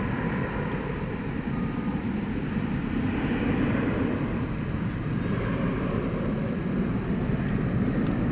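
An American Airlines Airbus A321 jet at DFW Airport gives off a steady, broad engine roar at night, heard at a distance and sustained throughout.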